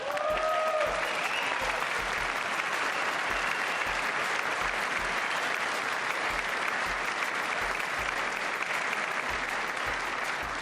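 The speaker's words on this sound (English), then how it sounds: "I wasn't sure if anybody even on this side was going to applaud for that" Sustained applause from a large audience fills the chamber during the State of the Union address, dense even clapping at steady volume throughout with a faint voice briefly at the start.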